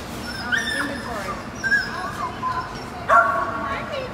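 Puppies bark and whimper amid a delivery of crated dogs, sharp yips and whines rising and falling in short bursts, close by, with people talking over them.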